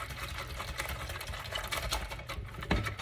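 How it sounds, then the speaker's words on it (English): Rapid close-up whisking of a batter for fortune cookies until frothy, a fast, continuous rattling patter of the whisk against the bowl with no talking. "you're going to whisk this up just until it gets kind of frothy"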